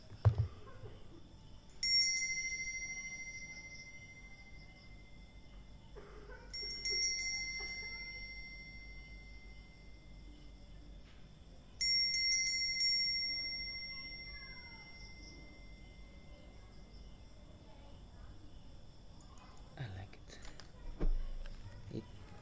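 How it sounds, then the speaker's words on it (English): A crystal bell is struck three times at spaced intervals, each bright ringing tone lingering and fading slowly in a quiet room, with soft shuffling afterward. "This crystal bell, you can close your eyes like this."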